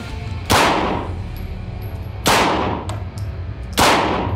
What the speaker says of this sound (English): Let's do a tack reload here out of my Neo mag.